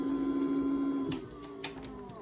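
An automatic heat press presses a DTF transfer onto a shirt, giving a steady mechanical hum that shifts as the platen moves, followed by a couple of brief clunks, close and alone.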